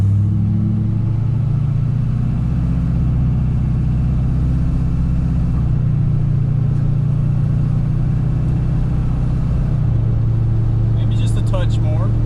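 Duramax diesel pickup truck under normal, gentle acceleration below 2,000 RPM, a loud low engine drone and rumble heard from inside the cab, with the tone shifting as it pulls, steady and continuous.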